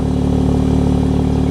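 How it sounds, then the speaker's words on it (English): A 2023 Nissan Z settling back to idle after warming up, a steady low engine hum with an even pulsing rumble, close and constant throughout. "The car's idling down now, like when I first started it up."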